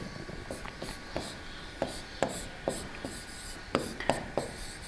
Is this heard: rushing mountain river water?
no